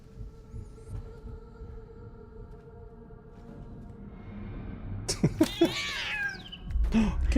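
A cat meows in the video game Death Stranding 2: On The Beach, several short, rising mewing calls coming close together late in the clip over a low steady hum and muffled thumps.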